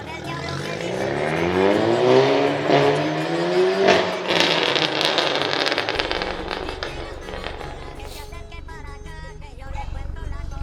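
A Volkswagen GTI engine and exhaust revs hard, rising in pitch over several seconds with crackling pops, then settles to a lower, uneven idle burble near the microphone.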